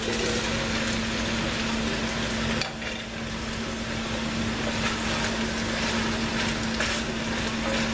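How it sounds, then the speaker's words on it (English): Zucchini added to a hot pan of turkey penne sauce gives a loud, steady sizzle with stirring scrapes, a brief dip partway through, and a constant hum underneath. "And now I want to add in all of my zucchini"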